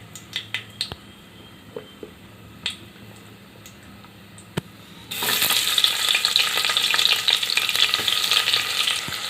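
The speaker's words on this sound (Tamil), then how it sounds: "இப்போ நறுக்கி வச்ச வெங்காயத்தை சேர்த்துக்கலாங்க." Oil hisses quietly with a few sharp clicks, then chopped onions drop into the pan and a loud, steady sizzle of frying fills the rest, while cooking vegetable pulao.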